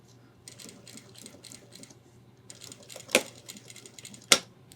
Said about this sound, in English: remember to do some reverse stitching to reinforce it